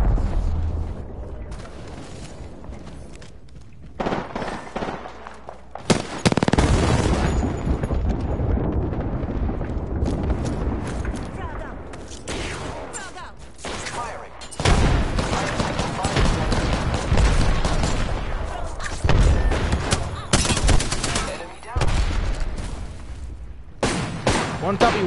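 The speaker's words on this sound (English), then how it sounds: "Heads up, we got an airstrike on us." An airstrike in Apex Legends with heavy explosions and bursts of gunfire, loud booming blasts and rattling volleys that come in waves over a long stretch while players talk.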